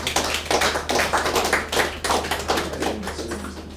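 Audience members at a sales training session clap together in a brisk, fairly close burst of overlapping claps. The sound swells in uneven waves and tapers off toward the end, with no talking over it.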